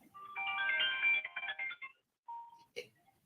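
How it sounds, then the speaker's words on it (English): A mobile phone ringtone plays a bright, close melodic phrase for about two seconds, then stops, followed by a short tone and a click. "Is that your phone?"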